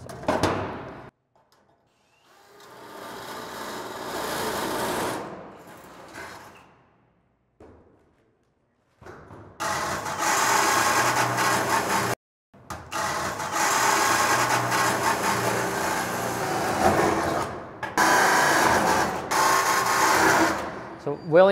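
A power drill whines in several bursts while drilling holes in a shipping container's metal roof, some short and some sustained, with pauses and brief thumps between them.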